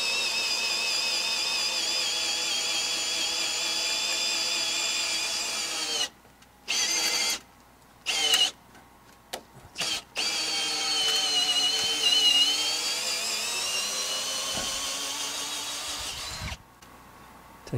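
A drill bores into two pieces of timber clamped together for timber framing, whining steadily and close, then cutting out in several short pauses and restarting, with faint thumps near the end.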